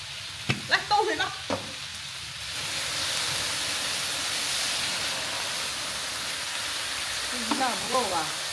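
Water poured into a hot pan of green beans bursts into a steady, loud sizzling hiss that lasts several seconds, with people talking briefly before and after.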